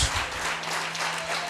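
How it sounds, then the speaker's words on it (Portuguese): Church congregation applauding in a lively worship service, a short burst of dense, steady clapping from a crowd that fills the room at moderate loudness, with a faint sustained tone underneath. "pode aplaudir o Senhor bem forte"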